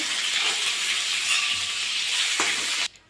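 Potato pieces fry in hot oil with salt for a pointed gourd and potato curry, a loud, steady crackling sizzle that carries on for nearly three seconds before cutting off abruptly.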